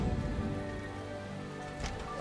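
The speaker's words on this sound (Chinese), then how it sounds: "下雨了" Nighttime rain falls as a steady, moderate patter and wash that fills the scene evenly, with a faint tonal hum beneath and no speech.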